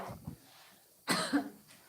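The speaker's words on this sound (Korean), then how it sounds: "선생님이 마스크를 쓰면 기침이 너무 심하게 많이 나가지고" Teacher at a church Sunday school service coughing: two soft coughs near the start, then a louder, harsher cough with a throat-clearing tail, fairly close to the microphone.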